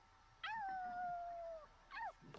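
A puppy in The Sims 4 lets out a single long, clear howl that slides down and holds, then gives a short rising yip after a brief pause, heard alone over quiet game background.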